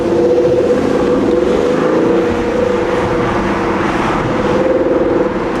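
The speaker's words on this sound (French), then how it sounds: "Comme ça, on entendra mieux le moteur." AMG engine in an Aston Martin car, a steady loud drone from the drivetrain heard with the windows down, its pitch rising and settling slightly throughout.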